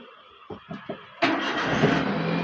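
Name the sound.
car engine starting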